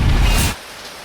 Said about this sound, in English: The rain had just started